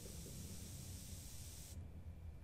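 Spray paint hissing from a can in the game GTA San Andreas, a steady broadband hiss that cuts off abruptly near the end, with a low rumble beneath.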